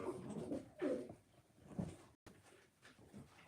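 Pigeons coo close by in low, throaty bursts, several rolling calls spread across a few seconds in otherwise quiet surroundings.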